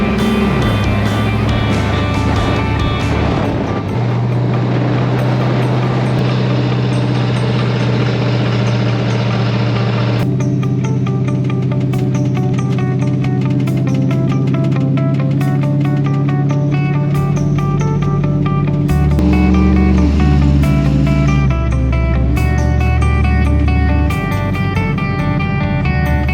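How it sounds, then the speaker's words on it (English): An LS-swapped K5 Blazer with Holley EFI drives with a damaged transmission, its engine droning loud and steady with a whining tone and shifting pitch through the run, close and continuous with no talking. "The transmission definitely sounds like it's hurt."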